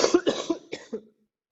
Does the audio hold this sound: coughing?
yes